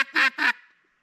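A duck call sounded to imitate a hen pintail's quack: two short, sharp, slightly high-pitched quacks in quick succession, close and loud, trailing off into silence.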